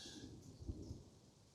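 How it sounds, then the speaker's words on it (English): Distant thunder rolls low and soft under steady rain in a city park in Sapporo, Hokkaido, with one or two faint rumbling swells and no voices. "thunder, wow."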